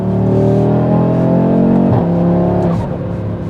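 A 2025 Audi RS3 of the 8Y generation accelerates hard with a loud, close engine note. The pitch climbs steadily and then dips and shifts twice in quick succession near the end.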